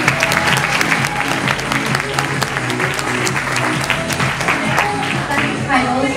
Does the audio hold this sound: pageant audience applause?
yes